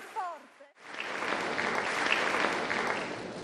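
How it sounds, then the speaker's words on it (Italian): Crowd applause at a commemoration of the Capaci massacre, 25 years on: after a brief voice, a sudden sustained burst of dense clapping from a large gathering, steady and loud throughout. "E questo è stato l'applauso più sentito, più forte."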